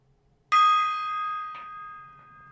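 A gong struck once with a bright, ringing metallic tone that sustains and slowly decays, a softer second strike following about a second later, heard alone against a quiet background.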